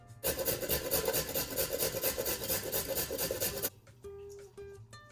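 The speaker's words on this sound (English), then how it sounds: "In this large bowl, I'm just going to grate the carrots" Carrots rasped against a grater over a large bowl, a continuous rhythmic scraping close by for several seconds, then stopping into a few light knocks and clatters.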